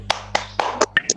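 A class claps a short, brisk rhythmic spirit-clap pattern of about six sharp claps in quick succession, led by a teacher during an online lesson.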